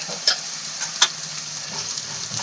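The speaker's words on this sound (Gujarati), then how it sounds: "મસાલાને આપણે એક મિનિટ માટે સાંતળી લઈશું" Spice masala sautéing in a pan for a Maggi noodle recipe gives a steady close sizzle, broken by two sharp scraping stirs near the start and a few softer scrapes after, with no voices.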